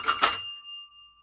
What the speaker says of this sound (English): Now this gets a bell.